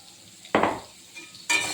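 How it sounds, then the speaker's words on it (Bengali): Soybeans tossed with salt and turmeric in a pan give two short, close scraping stirs, each a brief burst with a faint sizzle between them. "নাড়াচাড়া দিচ্ছি।"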